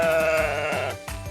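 A sheep gives a short, close, wavering bleat, followed quickly by a second brief bleat, clear and alone with no talking.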